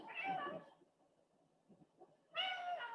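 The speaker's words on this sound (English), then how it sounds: "Sorry about my cat." A house cat gives two meows, close to the mic and moderately loud, with a quiet gap between them filled by faint room noise.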